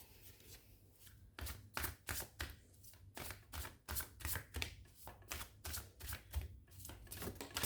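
A deck of oracle cards spilling and falling, heard as a quick run of crisp papery slaps and flutters close by, fairly soft and with no talking.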